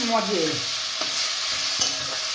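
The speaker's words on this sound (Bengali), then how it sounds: "একটু তেল দিলাম, 5 ফোড়ন দিলাম, একটু দিয়ে নাড়াচাড়া করলাম।" Panch phoron whole spices sizzle in hot oil as a spoon stirs them around the pan, giving a steady crackling fry with a few sharp scraping clicks.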